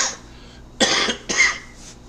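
Two separate coughs, each a short harsh burst, from a person sick with a lingering cold or flu, close and fairly loud with quiet between them and no talking.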